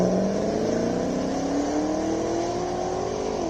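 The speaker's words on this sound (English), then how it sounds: "we see a Corvette making its way to the start line" A Chevrolet Corvette sports car drives toward the start line at the Simola Hill Climb, its engine note rising smoothly through a steady acceleration, loud and close with no talk over it.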